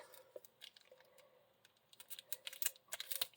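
Tear and tape being pulled and pressed onto the back of a Yuletide village church shaker card: soft, quiet crackles and clicking taps in scattered bursts, growing busier toward the end, with no voices.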